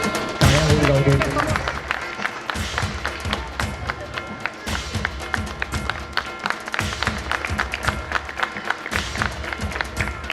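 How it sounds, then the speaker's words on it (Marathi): Guests at a Satyanarayan puja felicitation ceremony in a residential housing complex clap in a dense, continuous patter of applause lasting the whole stretch, fairly close, with scattered voices mixed in. "टाळ्या होऊन जाऊ देत."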